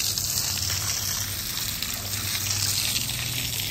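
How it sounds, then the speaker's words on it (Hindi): Water gushes steadily against a cement-rendered painted wall of a house as it is washed down, a continuous close splashing wash with no talk over it. "दीवार को क्यों धो रहे हो"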